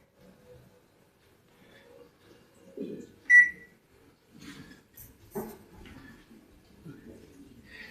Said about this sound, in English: this is our microwave, and I'm gonna put it on convection